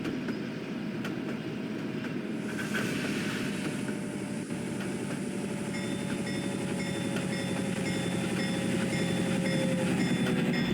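A model train rolls down a hill on a layout, a steady continuous rumble and whir of wheels and motor at close range, with a faint high whine above it and no talking.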